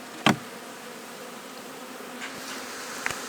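Honey bees hum in a low, continuous drone around hive frames during honey extraction, punctuated by a sharp knock near the start and faint clicks later.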